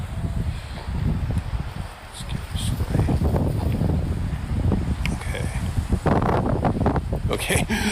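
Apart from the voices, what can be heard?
strong wind outdoors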